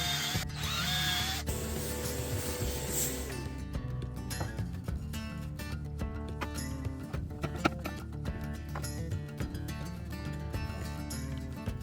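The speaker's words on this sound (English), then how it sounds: "I needed to drill a few holes and add all the screws" A power drill whirs in a long burst drilling holes in scrap wood, then several short stop-start bursts follow, close by, with clicking and rattling tool noises between.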